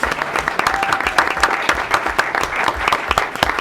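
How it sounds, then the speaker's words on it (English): Applause at a board of education meeting, a crowd clapping in a brisk, continuous patter of many hands, fairly close and loud throughout. "let's have a big round of applause"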